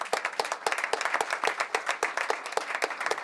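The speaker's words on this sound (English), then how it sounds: "Round of applause for our panelists." Applause for panelists at a utility regulation conference, a modest room of hands clapping in a brisk, fairly sparse pattern with distinct individual claps, loud and close.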